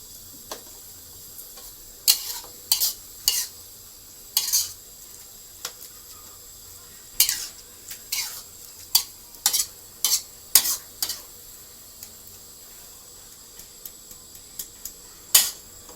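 Rat meat stir-fries in a pan in a Thai-style dish, with a soft background sizzle broken by repeated sharp clicks and scrapes of a spatula against the pan, close by and with no talk.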